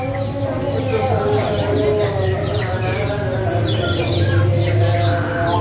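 Several orange-headed thrushes sing and chirp in quick overlapping phrases, with a steady low hum underneath throughout.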